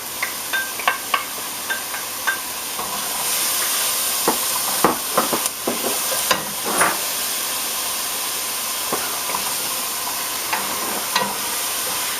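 Two finely chopped onions and four cloves of finely chopped garlic sweat gently in a pan for a chilli con carne, giving a steady low sizzle and hiss with scattered small crackles and stirring clicks, with no talking.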